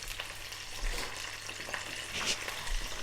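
Prawns fry in hot oil in a pan, a continuous crackling sizzle with small pops and occasional stirring, heard alone at moderate volume.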